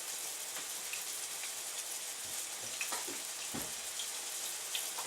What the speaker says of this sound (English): And it starts to fry